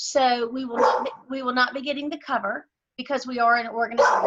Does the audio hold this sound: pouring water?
no